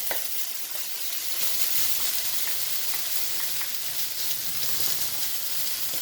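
Chicken and mixed vegetables are stir-fried over a home stove with two spatulas. A steady, loud sizzle runs throughout, with frequent scraping and tossing strokes against the pan close by.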